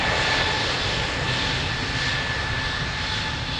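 A fixed-wing aircraft takes off from runway 02 at Lisbon Airport, its engines giving a loud, sustained roar with a steady whine riding over the broad rumble, constant for the whole stretch and with no talk.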